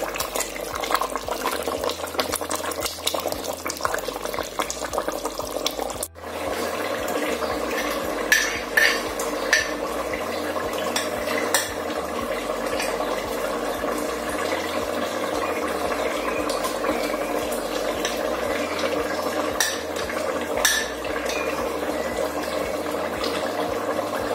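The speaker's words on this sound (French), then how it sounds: "Je vais donc maintenant ajouter les arachides grillés à l'intérieur" Roasted peanuts being added to a pot of peanut sauce with boiled potatoes, heard as soft cutlery and pot clinks and stirring over a steady low bubbling simmer, with one sharp knock partway through, no talk.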